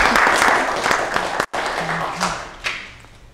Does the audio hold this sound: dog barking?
no